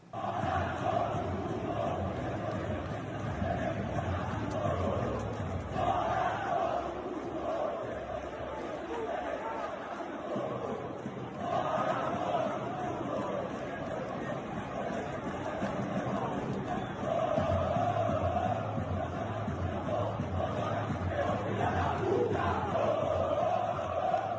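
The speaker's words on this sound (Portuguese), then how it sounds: "E aí a torcida do Corinthians, pé da vida, protestou e nós vamos ver o protesto da torcida do Corinthians" Corinthians football supporters staging an angry protest, a dense crowd roaring and chanting together in a steady, loud mass of voices that swells in waves throughout.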